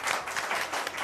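A short burst of clapping at the end of a Japanese web show broadcast, a brief, quiet spatter of hands alone.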